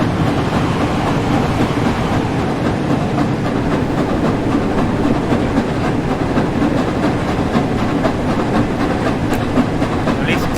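An Azuma train rolls along steadily in Train Sim World 4, its continuous rumble carrying a faint rhythmic clickety-clack over the rails with no pauses.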